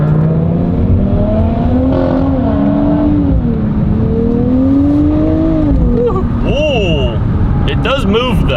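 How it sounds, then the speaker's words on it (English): Nissan Z exhaust note rising and falling through gear shifts as the car accelerates onto a freeway, heard from inside the cabin with a steady loud drone and someone talking over it. "I love that exhaust note out the back when you shift."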